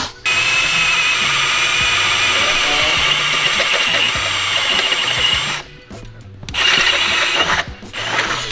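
A steady, loud mechanical whir of a power drill grinding through the metal strut in an R34 Skyline's engine bay runs for several seconds, dips briefly, then resumes with rattling.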